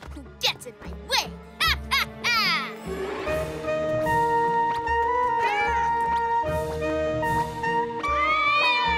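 Cartoon cats meowing and caterwauling in rapid, repeated high cries, loud and close over a musical score, with a character's voice talking among them.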